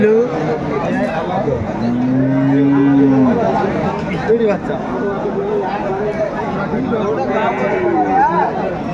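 Cows moo at a busy cattle market where cows and calves are sold, several long low calls rising over constant crowd chatter and people talking nearby.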